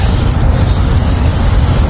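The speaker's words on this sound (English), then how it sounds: "You can kind of hear it cutting into the light." Continuous close hand sanding of a plastic headlight lens, a steady gritty abrasive rasp with no pauses.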